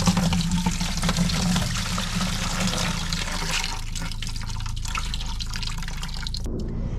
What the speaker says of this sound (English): let's dump it into a clean bucket and know for sure